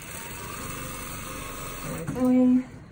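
Sewing machine stitching a lined hanging joey pouch for wallabies and kangaroos, a short steady motor whir of about half a second near the end, after a quieter stretch of low background hum.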